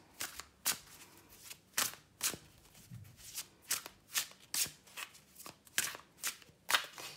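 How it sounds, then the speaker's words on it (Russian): A deck of tarot cards is shuffled close by in quick, regular bursts, each riffle a crisp papery flutter repeating about a dozen times with brief pauses between. "Давайте перемешаем нашу колоду."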